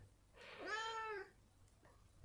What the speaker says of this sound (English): Sorry, the cat's going crazy.